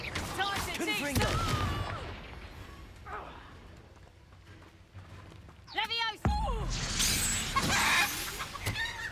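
A Confringo fire spell is cast in Hogwarts Legacy, with a sudden loud blast and crackling burst that follows game voices and scattered effects, and the burst rings on into a bright, noisy roar.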